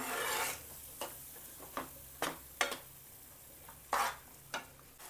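Masala paste for misal pav stirred in a pan over low gas, with a faint steady sizzle under a series of soft, separate scraping strokes of a spoon against the pan, spaced about every half second to second.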